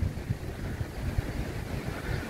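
Wind and surf at Serau Beach in Pacitan, a rough, buffeting rumble of wind on the microphone over rolling waves, continuous and gusty with no speech.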